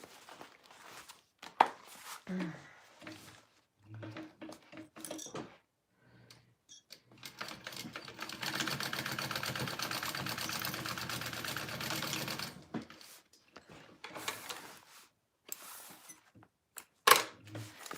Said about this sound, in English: I'm going to baste that on first.